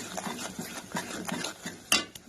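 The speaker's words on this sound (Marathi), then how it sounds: "हळदी लाल तिखट आणि नमक टाकून घेतलं मस्त फ्राय करून घेते" Turmeric, red chilli powder and salt being stirred and fried in a pan, with soft scraping and clinking of a utensil against the pan in an irregular rhythm and one sharper metallic knock near the end, close and fairly quiet.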